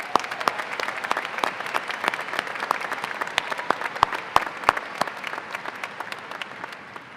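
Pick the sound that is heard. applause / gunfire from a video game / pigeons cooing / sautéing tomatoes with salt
applause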